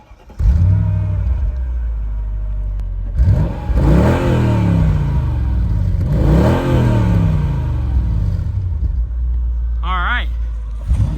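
A 580 hp Mercedes SL55 AMG R230 V8 roars loudly up close, revving hard through repeated accelerations with rising and falling engine pitch, then dropping back to a deep rumble; a brief whine near the end.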